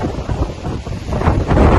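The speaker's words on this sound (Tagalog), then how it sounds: "Malakas ang hangin." Strong wind roars and buffets the microphone in a steady, rumbling rush that swells louder toward the end, with no voices heard.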